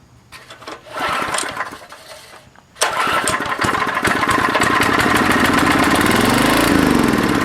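A Craftsman 5 hp 2400-watt generator engine is pull-started. The first pull gives a brief sputter that dies, then a second pull catches, and the small engine settles into a loud, steady idle close by.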